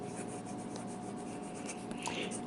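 Jinhao X750 fountain pen fitted with an Anderson 1.5 stub nib scratching steadily across paper in continuous line-variation strokes, a soft close rubbing texture with no voices.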